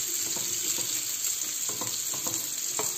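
Sucuk sausage fries in butter in a pan at a Turkish breakfast, a steady close sizzle with soft irregular pops and faint stirring, without talk.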